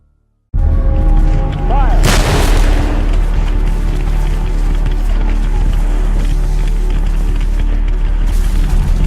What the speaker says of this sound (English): Heavy cannon fire from the Union timberclads Tyler and Lexington pesters the Confederate lines.